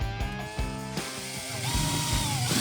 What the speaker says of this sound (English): Now I'm going to take my 3/4 inch Forstner bit and go straight down